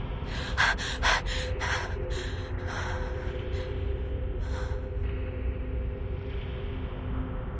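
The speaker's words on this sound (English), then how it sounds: "Her breathing steadies." A video game character in Reverse 1999 breathing heavily, with sharp gasping inhales and snorting breaths in a quick cluster early on that ease into slower, quieter breaths over a low ambient hum.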